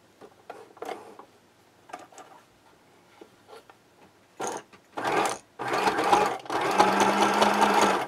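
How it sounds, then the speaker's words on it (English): A sewing machine stitches the edge of a luggage tag, starting with a few short ticking bursts, then running in longer steady whirring runs that grow louder toward the end, close and alone. "So now we're going to sew this other edge down."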